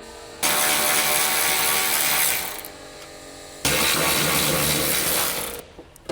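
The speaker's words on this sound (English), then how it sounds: "Continue using the same tools to remove the upper crossmember mounting bolts." Rapid ratcheting of a hand tool loosening the upper crossmember mounting bolts on a 2006-2015 Honda Civic during radiator replacement, two loud sustained bursts of clicking, close up, with no talk.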